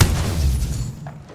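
A single heavy gunshot in the video game Apex Legends, a loud booming blast that decays over about a second with a faint ringing tail.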